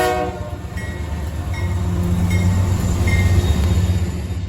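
Freight train hauling sulfuric acid tank cars rolls past, a steady loud rumble with rhythmic clatter of wheels and a faint horn tone, continuous throughout.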